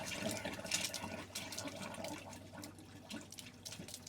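Water rushing steadily through the pipes of a motorhome's hot water system and boiler, a faint, continuous hiss and gurgle with no talk over it.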